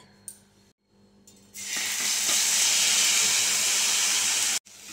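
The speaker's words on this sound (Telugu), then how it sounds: "ఇలా కడుక్కున్న కాకరకాయలను పెనం పైన వేసి వేయించాలి" Washed small bitter gourds hit a hot pan and fry with a sudden, loud, steady hiss and sizzle that holds for a few seconds before cutting off.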